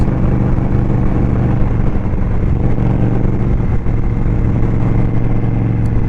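Engine of a 2023 Indian Scout Rogue motorcycle while riding, a loud, steady, low drone with heavy wind rush that holds constant throughout, with no speech.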